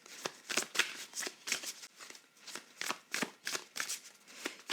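Tarot cards are shuffled and drawn by hand in a steady run of crisp riffling bursts, each a brisk papery flutter repeating roughly every half second, close and moderately loud with no voices.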